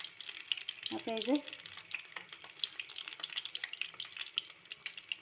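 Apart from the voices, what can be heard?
batter-dipped bajji chillies frying in hot oil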